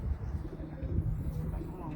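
Pigeons on a rooftop in Muscat, Oman, giving soft low coos close by, mixed with someone talking and faint background noise.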